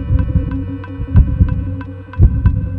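A human heartbeat thumps steadily as a game sound effect, roughly two beats a second, close and loud over a low droning hum with no speech.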